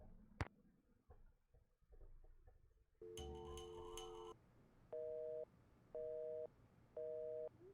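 A telephone busy signal from the Cooking Mama-style game Nancy Drew: Ice, preceded by a click and a brief garbled tone, then three evenly spaced steady beeps, clear and moderately loud with no talking.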